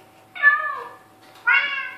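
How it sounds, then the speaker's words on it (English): Minecraft cats in a player's house give two clear, close meows about a second apart, each a short bright cry over quiet background. "There's his cats."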